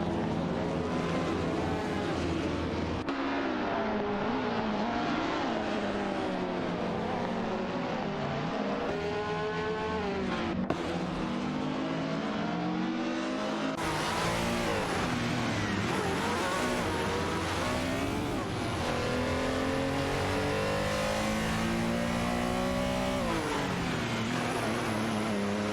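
Several race car engines from a racing video game rev and howl on track, pitches climbing and falling as they shift gears and pass each other, loud and continuous with abrupt changes in engine tone.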